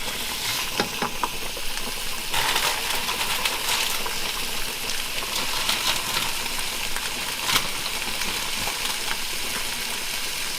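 Salmon sizzles in a frying pan while linguine with dill and courgette is cooked, a steady crackling hiss that brightens and spits now and then, with no talking.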